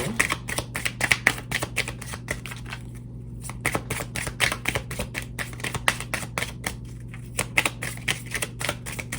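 Tarot cards are shuffled by hand close up, a quick run of crisp riffling snaps and soft slaps in irregular bursts over faint background hum, with no talk.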